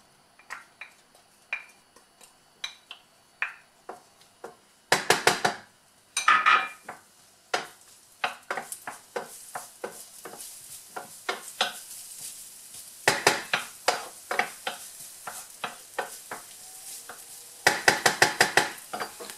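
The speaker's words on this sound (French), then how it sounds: "Je vais faire revenir mes petites échalotes" Small shallots cook in a little oil in a pan, heard mainly as a series of sharp utensil taps and scrapes, sometimes in quick bursts, over a faint sizzle, close and otherwise quiet.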